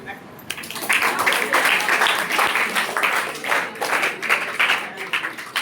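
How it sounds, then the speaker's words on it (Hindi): Audience clapping at a quiz contest after a question is answered, dense and sustained for several seconds, with voices mixed in. "मेरे लिए ताली।"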